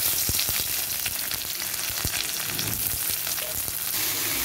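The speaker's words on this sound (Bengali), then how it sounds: "ফোড়ন দিয়ে দিলাম শুকনো লঙ্কা আর কালো জিরে ফোড়ন দিয়েছি" Dried red chillies and black cumin seeds frying in hot oil as a tempering, a dense crackling sizzle running throughout with scattered sharp pops and a few stirring knocks against the pan.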